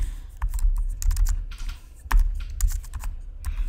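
Computer keyboard keys clatter in quick, irregular bursts of close clicks while an Excel lookup formula is entered, with no talking.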